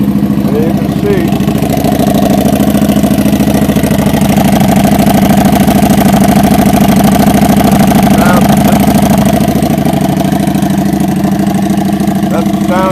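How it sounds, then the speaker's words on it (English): A 2015 Harley-Davidson Street 750 motorcycle idling just after starting, a loud, steady, close throbbing rumble that holds unchanged throughout, with someone speaking faintly beneath it. "That's the sound you will get out of this particular motorcycle."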